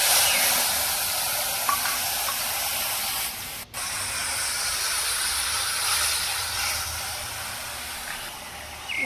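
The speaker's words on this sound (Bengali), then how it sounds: "এই জলটা কড়াই দিয়ে দিই" Water is poured into a hot kadai for a tamarind fish roe sour curry, setting off a loud, steady hiss of sizzling steam. It runs almost unbroken, with one brief clunk midway.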